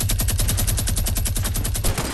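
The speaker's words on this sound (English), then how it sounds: "now it's just minigun time" Rapid minigun fire in the Fortnite video game, a loud unbroken stream of evenly spaced shots that rattles steadily for the whole stretch.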